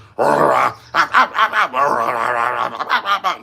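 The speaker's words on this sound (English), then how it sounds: "doing all kinds of little noise that's triggering you into thinking that it's a sign of them fighting" American bully dogs at play make a string of little noises up close: a long nasal whine, then rapid snorting grumbles and playful growl-like huffs in short bursts.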